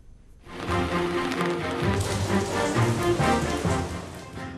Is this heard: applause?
no